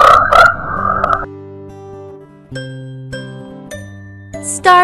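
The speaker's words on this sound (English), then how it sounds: "Tree frog." Tree frog croaking in a short series of clear, resonant notes with ringing tones, loud and close, with no talk.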